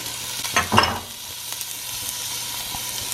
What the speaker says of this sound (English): I'm gonna put about 1 teaspoon of the fennel seed, and right away I put my onions in.